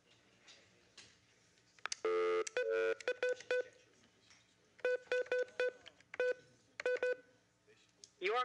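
Telephone keypad tones at a county public meeting as a number is dialed, crisp clustered beeps in quick bursts with pauses between groups, heard close over faint room sound and brief murmurs.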